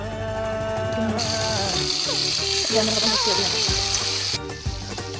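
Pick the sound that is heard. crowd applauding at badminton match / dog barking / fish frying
fish frying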